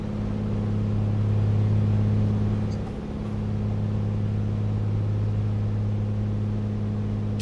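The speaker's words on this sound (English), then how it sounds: "every little weird noise your engine makes" Steady drone of a Piper Comanche piston engine in a flight simulator, a continuous low hum with a slight dip in level around the middle, no talk.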